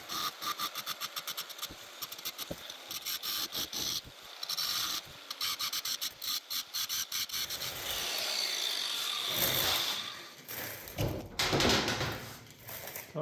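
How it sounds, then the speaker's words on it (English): An oxy-fuel cutting torch slicing through steel pipe gives a steady hiss and roar that swells over several seconds, preceded by dense rasping and scraping. "and then we'll fire up the torch"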